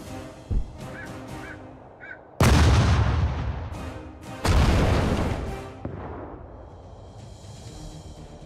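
Artillery in the WWII strategy game Sudden Strike 4 fires in two heavy, close booms a couple of seconds apart, each decaying into a rumbling tail, with small clicks and tones between them.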